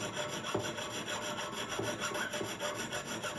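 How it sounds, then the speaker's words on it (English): A jeweller's saw with an 8/0 blade cuts gold with a steady, raspy back-and-forth scratching, close and continuous throughout. "I think I've still got an 8/0 saw blade in this"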